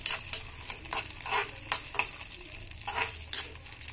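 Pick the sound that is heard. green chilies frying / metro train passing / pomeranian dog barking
green chilies frying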